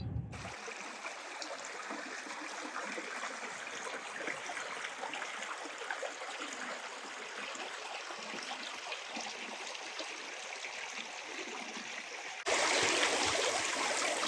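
A brook runs through old-growth hemlock forest in Maine, giving a steady, even rush of flowing water with no breaks, moderately loud, and a brief louder burst of noise near the end.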